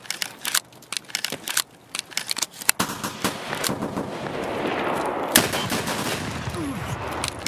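Video game gunfire crackles in rapid, sharp bursts, single shots and fast automatic volleys, followed by a louder sustained roar of firing and explosions, with no talking over it.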